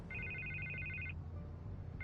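An electronic telephone ringing in a Batman video game, a rapid trilling ring lasting about a second, then a pause before it starts again, faint and steady over a low background hum.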